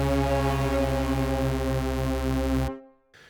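Horns doubled with a Serum synthesizer: a loud, deep, sustained brassy drone with a slight pulsing wobble, held for a few seconds before cutting off abruptly.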